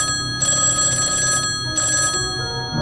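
An old-fashioned telephone bell rings in two clear bursts separated by a short pause, loud and close, with a low hum underneath and no speech.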